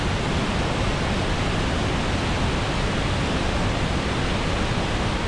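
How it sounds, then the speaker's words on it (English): Angel Falls (Salto Angel) heard from the top of the waterfall as a dense, unbroken roar of falling water, steady and loud throughout with no voices. "I give you the top of the Salto waterfall"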